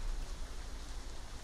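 Rain in the Doors video game, a steady hiss of falling rain, constant and even throughout, with no voices over it.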